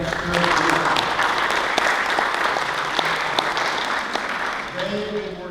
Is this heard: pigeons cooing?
no